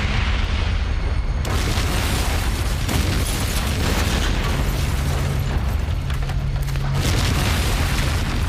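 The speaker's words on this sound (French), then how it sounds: "Ce vacarme, on aurait dit une explosion" A heavy, rumbling explosion roars continuously in a TV action drama, a dense, loud boom with deep low-end rolling through, and no voices over it.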